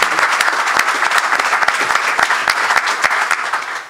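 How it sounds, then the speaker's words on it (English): A round of applause at a press conference on Old Dominion joining the Sun Belt Conference, dense steady clapping from an audience, loud and sustained throughout. "This is where a good round of applause would be"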